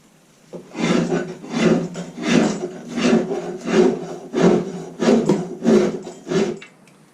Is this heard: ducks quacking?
no